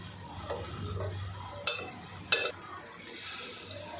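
Water goes into a pan of frying potato-tomato masala curry: a low sizzle, two sharp metallic clinks, then a swelling hiss near the end.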